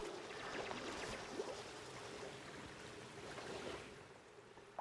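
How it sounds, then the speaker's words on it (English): Water drains away in the video game Oxygen Not Included, a soft continuous trickling wash with faint gurgles that stays steady and low throughout, with no voices. "the water's taking a little bit longer to drain away than I thought it would"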